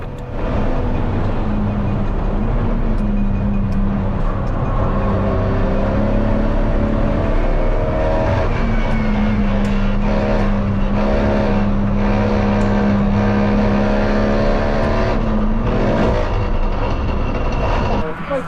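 A race car engine faltering during an endurance race hums continuously, its pitch wavering and dipping unevenly, with people talking over the running motor throughout.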